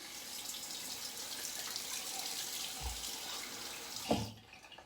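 Tap water runs steadily into a sink for a rinse after shaving, a soft even hiss with a brief thump near the end before the flow cuts off.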